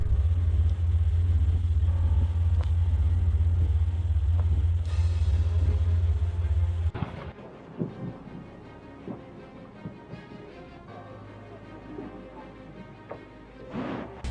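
A tour boat's engine rumbles as it approaches Aalik Glacier in Kenai Fjords, a heavy, steady low drone for about seven seconds, then it cuts out, leaving quiet open-air ambience with faint scattered knocks.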